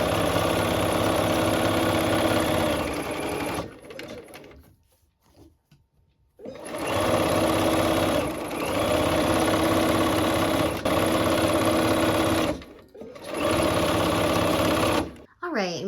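A sewing machine stitches quilt seams for a Let It Snow quilt, running in loud close bursts with brief pauses between them.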